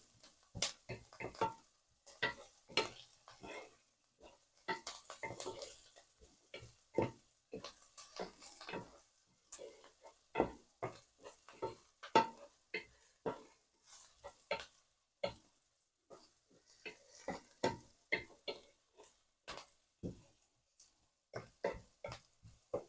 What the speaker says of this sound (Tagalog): we'll just stir fry everything. I just let make it brown a little bit so that the garlic will have some aroma